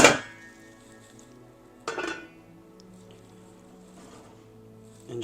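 A metal lid clanks onto a pan of breakfast taco filling, two sharp close clatters with ringing decay, then a quieter knock at the end over faint cooking noise.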